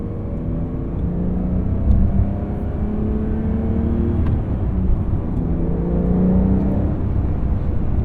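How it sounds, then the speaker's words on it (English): A 2023 Porsche 911 Carrera T's engine while driving, a steady close gruff hum with a smooth higher whir that rises and falls slightly across the cabin, without any talk over it. "This motor manages to sound like precise and dainty, but also gruff at the same time."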